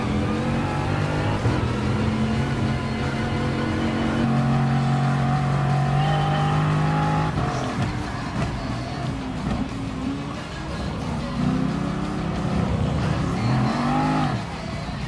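A Bugatti race car in Gran Turismo Sport, part of the Vision Gran Turismo Trophy, drones steadily through a race with its engine pitch climbing and falling as it shifts and accelerates, loud and continuous throughout.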